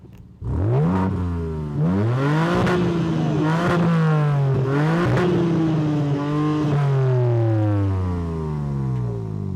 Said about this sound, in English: let's listen to this Remus exhaust because it sounds great inside the cabin